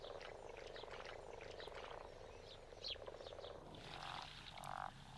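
A chorus of frogs croaks steadily in rapid, overlapping trills, with a couple of louder, closer calls standing out near the end.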